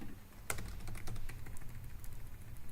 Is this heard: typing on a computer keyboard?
yes